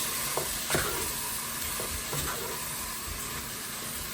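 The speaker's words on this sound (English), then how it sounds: "Heat up high again and throw the meat in. And give that a good mix round." Meat sizzles loudly in a hot pan for Guinness chilli, a steady hiss broken by a few scraping knocks as it is mixed round, close up and without voices.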